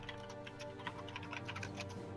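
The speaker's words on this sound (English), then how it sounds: "Nice typing." Light rapid keystrokes on a computer keyboard, a quiet irregular patter of clicks heard faintly in the background for a couple of seconds.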